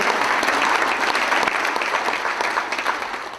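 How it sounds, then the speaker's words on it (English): An audience applauds a volunteer named Stacy at a Rotary gathering of president-elects, dense steady clapping from a large room that stays loud for several seconds and eases slightly toward the end. "How about a round of applause for Stacy,"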